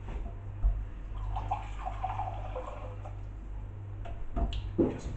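A small splash of water poured into a blender of smoothie ingredients with garlic, a faint, brief trickle over a low steady hum.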